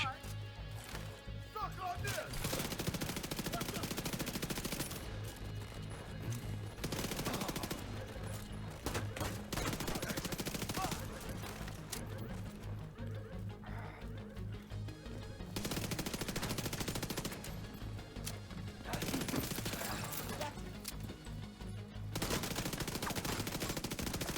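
Rapid automatic gunfire in The Division 2, delivered in long dense bursts separated by brief pauses, with a player talking over the shooting.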